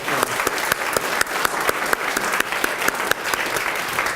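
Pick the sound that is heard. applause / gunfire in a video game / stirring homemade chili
applause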